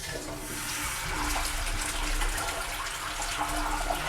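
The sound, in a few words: water running from Japanese toilet tank sink tap after flushing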